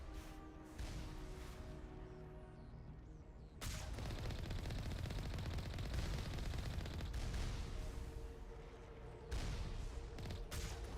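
Moving turrets in Mass Effect 1 pour sustained automatic fire at the player, a dense roar of rapid gunfire broken by brief pauses and sharp onsets, loud and close with no talk.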